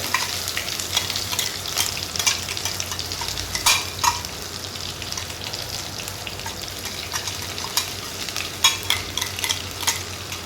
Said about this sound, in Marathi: आता मसाला छान तेलामध्ये आपल्याला परतून घ्यायचा आहे